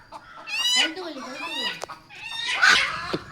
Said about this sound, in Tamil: இங்கே ஒரு கோழி